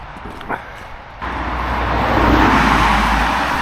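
Traffic noise on a busy main road beside a canal towpath in winter, a steady broadband roar of passing cars that swells after a quieter start and stays loud and close throughout.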